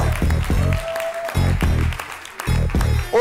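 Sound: applause for Biscotte

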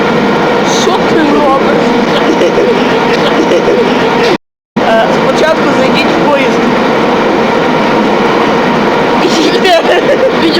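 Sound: inside a moving train

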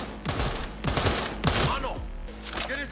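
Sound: gunfire in the video game Cyberpunk 2077

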